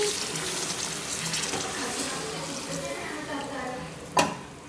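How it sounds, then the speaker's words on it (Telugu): Water being poured into a pan of chicken curry with ginger-garlic paste and chili powder frying in it, making a steady rushing splash that ends with a sharp clink near the end. "దీనిలోకి ఇప్పుడు వాటర్ పోసుకోవాలండి"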